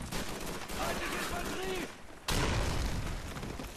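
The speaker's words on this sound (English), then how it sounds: "Oh, I have grenades now. Let's promptly squander my grenades." Grenade explosions in the Call of Duty 3 video game, a loud sustained rumble of blasts with a sharp new burst midway, close and dense with gunfire-like texture.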